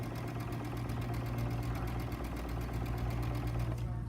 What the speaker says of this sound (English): I'm sewing myself another 5/8 inch seam